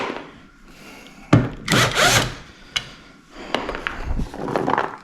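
Screws being backed out of the LED headlight ballast of a 2021+ Ford F150 with a power driver, short whirring bursts and clicks against plastic, close up, with handling noise between runs.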